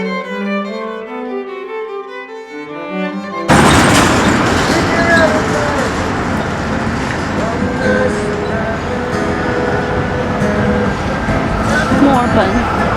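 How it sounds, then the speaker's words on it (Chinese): Soft music gives way abruptly to a Melbourne tram passing along a city street: a loud, steady rumble of wheels and street traffic, with a voice speaking over it. "那这也是墨尔本最有名的路面电车哦"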